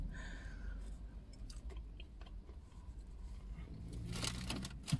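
Close, wet chewing and soft crunching of KFC fried chicken in a car, with small bites and smacks at an irregular pace.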